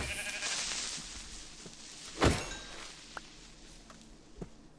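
A sheep bleats in Minecraft, one clear bleat in the middle over a faint background hiss, followed by a few soft footstep-like taps.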